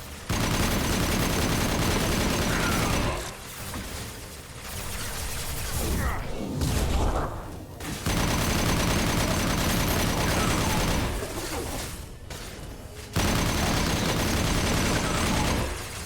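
Gunfire in Mass Effect Legendary Edition 2: sustained loud bursts of shots and heavy rounds fill most of the stretch, broken by two brief lulls near the middle and toward the end, with dense battle noise throughout.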